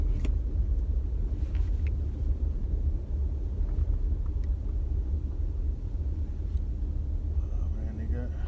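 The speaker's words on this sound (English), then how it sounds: "Oh man, they got a few cars out here." Cars pass by outside as a continuous low traffic rumble, with people talking over the steady drone.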